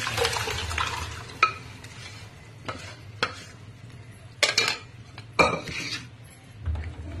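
Onions frying in a pan for a mutton bone soup, stirred with a spoon that scrapes and clinks against the metal at irregular moments over a low, steady sizzle, close and fairly quiet, with no talking.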